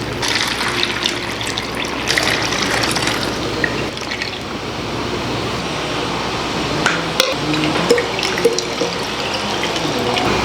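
Green juice is poured with a small glass cup into bottles, a steady close trickling and filling sound of liquid with occasional clinks and drips, with no talking.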